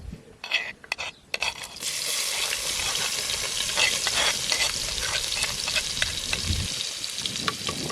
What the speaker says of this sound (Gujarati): તેલ ગરમ થઈ ગયું છે હું થોડીક નાખી દઉં ડુંગળી નાખી દઉં